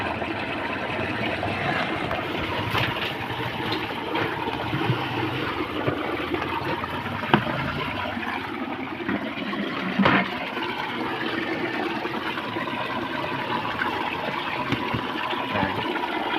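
A homemade 24V 250W stainless spin aerator churns water in a tilapia tank, giving a steady, continuous splashing rush with a motor hum underneath, close and fairly loud throughout with no talk.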